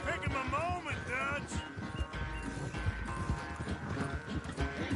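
A horse gallops in Red Dead Redemption 2 with a steady, close clip-clop of hooves that runs the whole time, while a voice talks over it.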